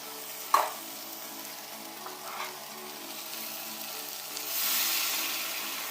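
Chicken curry made with local chicken fries and sizzles in a pan, with a sharp splash as hot water is poured in and soft stirring scrapes, ending in a louder bubbling hiss.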